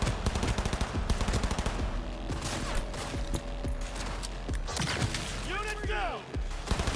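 Gunfire in a firefight in the video game Cyberpunk 2077: dense, rapid automatic bursts and scattered single shots crackle continuously, layered with game effects and whooshing sounds, with a voice talking over the action.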